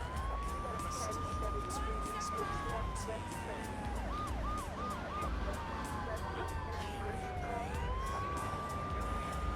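Police car sirens in the video game Grand Theft Auto III, a wailing siren with quick yelping bursts rising and falling over a dense rumble of traffic and engine noise, with some talk underneath.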